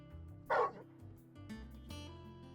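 A dog in the video game Final Fantasy XVI lets out a single loud, short bark close by, followed by quieter game ambience and faint low tones.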